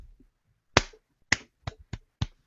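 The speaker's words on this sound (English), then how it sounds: "Okay, she's clapping." A woman claps a few times during a podcast conversation, sharp isolated hand claps in an uneven rhythm, close and fairly loud with no talking over them.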